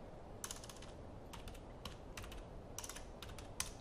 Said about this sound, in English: Let's type in plank.